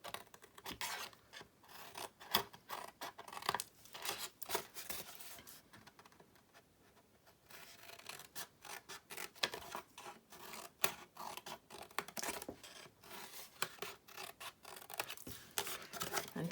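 Scissors snip repeatedly through a cardstock box base as it is cut and notched for a treat box, a close, irregular series of crisp cuts and rubbing paper with a brief quieter pause midway.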